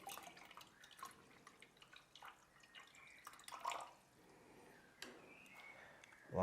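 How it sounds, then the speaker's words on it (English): Water is poured into the humidifier tank of a ResMed AirSense 11 CPAP machine, a quiet trickle with soft drips and gurgles that swell and fade, close by and alone. "And then we just fill up with water."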